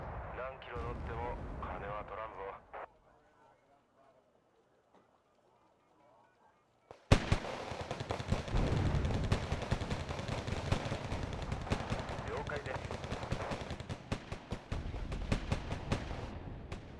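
Video game combat gunfire: after a voice and a quiet gap, dense rapid bursts of shooting and booming blasts keep going, loud and continuous.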